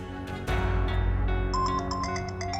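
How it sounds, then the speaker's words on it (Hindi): A phone rings with a melodic ringtone in an indoor TV-drama scene, a run of bright repeated tones starting partway in and going on to the end, heard fairly close over a low background. "आरू का फोन है?"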